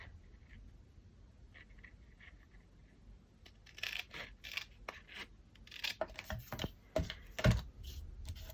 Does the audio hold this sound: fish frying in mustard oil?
no